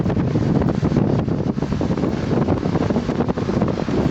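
Strong wind at Tirupati buffets the microphone in rough, continuous low roaring gusts, loud and close, with no speech.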